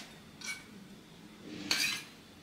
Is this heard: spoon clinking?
yes